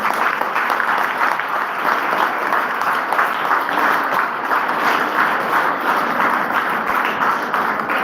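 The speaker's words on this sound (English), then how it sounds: "Great applause." Audience applause at an English department seminar at Arasu College for Women, an even, continuous crowd clapping that holds steady at moderate volume throughout.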